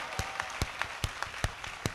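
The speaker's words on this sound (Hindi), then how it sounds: "जिस मन से आपने ये तालियां बजाई" An audience at a Hindi kavi sammelan poetry recital claps in a scattered rhythm, with distinct individual hand claps popping out of a light, fairly close applause.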